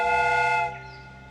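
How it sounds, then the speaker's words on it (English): Steam whistle on a replica train in a Sherlock Holmes video game, a loud sustained multi-tone blast that cuts off after under a second, leaving a fading hiss. "The steam whistle is ready to be used."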